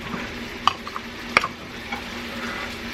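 Shrimp and snow peas cook in a pan with a soft, low sizzle, broken by a couple of sharp utensil clicks against the pan.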